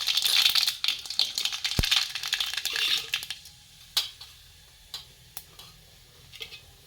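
Mustard seeds hit hot oil in a small pan, bursting into a bright crackling hiss with scattered sharp pops that thin out into occasional isolated crackles.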